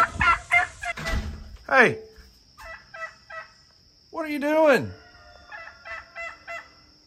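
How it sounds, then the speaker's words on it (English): Turkeys gobble and ducks call on a farm, several loud bursts of gobbling in quick succession close by, with a person's voice speaking briefly between them. "There goes a duck. There goes a turkey."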